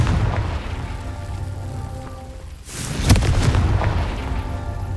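A Confringo spell bursts in Hogwarts Legacy with a loud, booming explosion that breaks through a low rumbling backdrop, followed by a lingering roar of debris and fire.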